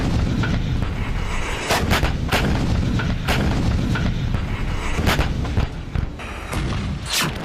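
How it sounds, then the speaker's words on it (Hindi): Heavy gunfire and artillery in the Armenia–Azerbaijan war: repeated sharp blasts and booming reports at irregular intervals over a constant rumbling background of battle noise, with no talk. "अजरबैजानी सेना की वर्दी पहनकर आर्मेनिया पर जबरदस्त गोलीबारी कर रहे हैं"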